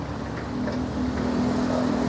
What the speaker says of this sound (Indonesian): Dan mobil dump truknya pun datang.